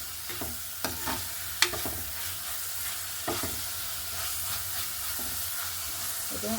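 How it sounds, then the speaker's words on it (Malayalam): Green chillies, ginger, garlic and onion fry in coconut oil with a steady, close sizzle, broken by a few sharp stirring scrapes and clicks of a utensil against the pan, with no talking. "വെളിച്ചെണ്ണയിൽ കിടന്ന് നന്നായിട്ട് ഇതിൻ്റെ പച്ചമണം ഒന്ന് മാറട്ടെ"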